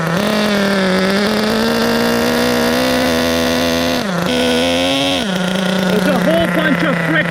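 A vintage Yokomo GT4 1/10-scale nitro RC on-road car engine idles loudly and steadily up close, a buzzing, harmonic drone that dips briefly and wavers slightly toward the end.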